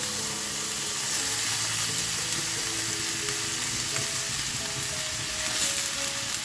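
Cooked jackfruit and field beans frying with onions in a pan, a loud continuous sizzle close up with occasional stirring, no voices.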